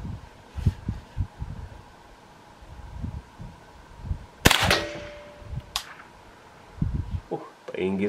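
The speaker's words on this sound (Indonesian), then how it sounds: "Sekarang saya tembak bagian tengah atas." A single sharp gunshot from a Ruger semi-automatic firing 36 grain hollow point ammunition cracks loud and close, with a fainter second report after it, amid soft thumps and someone speaking.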